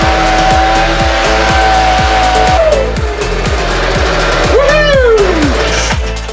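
A small gasoline engine with a carburetor and choke runs loud and steady, with a rapid regular firing rhythm throughout. A rising and falling whine sweeps across it as the choke is adjusted.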